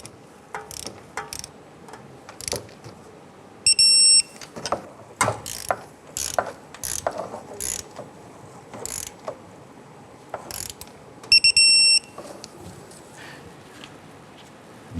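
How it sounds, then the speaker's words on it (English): Ratchet clicking in short bursts while torquing thermostat housing bolts on a 1997-2006 Jeep Wrangler, close and crisp, with two sharp click-type torque wrench releases between strokes. "Let's torque down the bolts to 15 foot-pounds."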